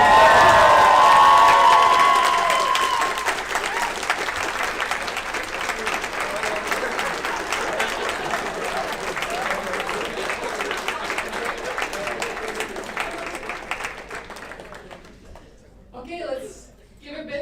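A large crowd claps and cheers loudly for a newly elected national board at a student association assembly. The ovation is strongest at the start and gradually fades to scattered claps and voices near the end.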